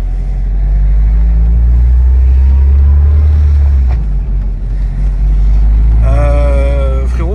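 A Harley-Davidson Chicano motorcycle engine runs with a loud, deep, rumbling idle that swells and then eases, and a higher whining tone rises near the end.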